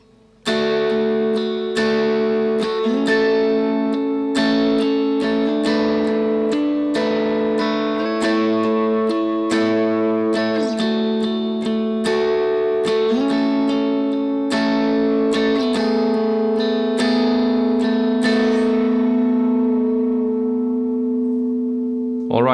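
Electric guitar played with a Black Mountain slide ring through the bridge of a song. Ringing, delayed chords are struck in a steady rhythm with smooth sliding pitch glides, sustained and upfront with no talking.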